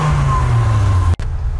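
A 1994 Dodge Viper's engine runs steadily at a loud, close idle with a low, even drone, broken by a brief dip near the end.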